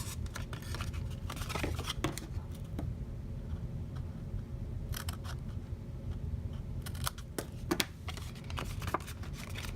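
Scissors cut through folded paper while making a gum holder, a steady stream of soft snipping and rustling close by with a few sharper clicks, no talking.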